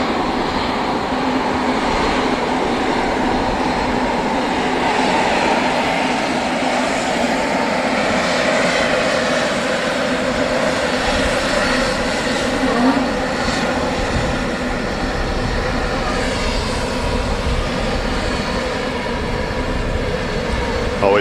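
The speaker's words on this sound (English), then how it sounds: "Always a big turnout to see the A380 people lining the fence here at the Runway Visitor Park at Manchester Airport." A steady, loud roar of Airbus A380 airliner engines at the Manchester Airport runway, heard from the visitor park fence, rumbling continuously throughout with no pauses.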